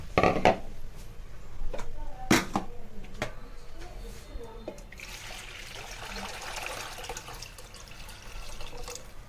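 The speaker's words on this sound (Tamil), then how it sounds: "இப்போ நம்ம ஓரளவு தண்ணி ஊற்றிக்கலாம்." Water runs and splashes into a cooking pot for several seconds, a steady broadband pour after a few sharp metallic clinks near the start.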